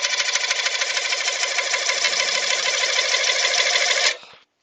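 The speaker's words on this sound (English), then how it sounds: "lathe on about 500 RPM. And I'm just going to run that" A metal lathe spinning at about 500 RPM during a cut gives a steady, loud mechanical whir with a fine rapid chatter. It runs unbroken for about four seconds, then stops abruptly and a short tail fades out.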